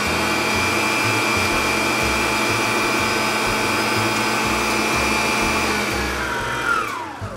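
An electric mixer whisks eggs until frothy, then sugar is mixed in: a loud, steady motor whine with a rhythmic churning pulse, holding constant before spinning down and stopping at the end.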